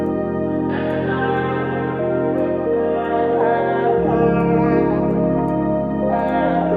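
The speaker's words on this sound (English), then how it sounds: "Let's add some reverb." Synth lead melody in a beat, bright sustained notes washed in reverb, a bass note dropping in partway through, steady moderate level with no talking.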